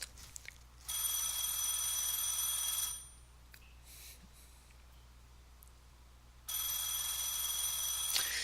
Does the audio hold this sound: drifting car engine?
no